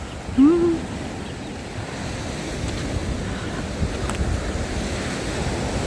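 Stormy Black Sea surf washing onto the shore at Lanzheron beach in Odesa in a constant rushing roar, with wind buffeting the microphone and a brief high whistling tone near the start.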